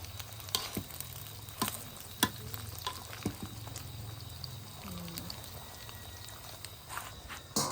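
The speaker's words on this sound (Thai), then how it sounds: "อันนี้จะทอดลูกซีนน้ำมันน้อยหมดแล้ว" Thai meatballs fry in a small amount of oil in a pan, giving a steady soft sizzle with occasional sharp clicks and clatter of stirring, and no talk.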